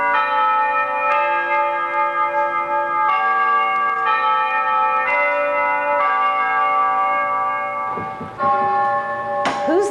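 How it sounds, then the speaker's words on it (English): A household doorbell plays the Westminster chime melody in clear, ringing bell tones, followed by deeper Big Ben-style bongs, close and steady, in a vacation home in Coral Gables, Florida. "It begins with the chimes of Westminster Abbey, and then it finishes with Big Ben bongs."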